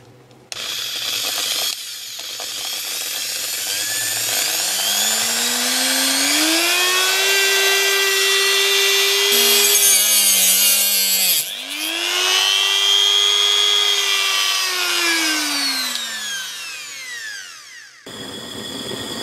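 An old sword blade clamped in a vise being cut by a motor-driven tool. Its high whine swells and dips through two long passes, close and steady, with no talking.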